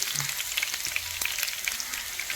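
Mustard seeds frying in a spoonful of hot oil for pineapple kichadi, a steady close sizzle with scattered crackles and small pops, no talk.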